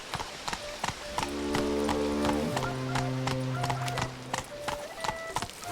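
Roach the horse galloping in a Witcher video game, with steady, crisp hoofbeats clopping in a quick rhythm throughout over sustained tonal music notes.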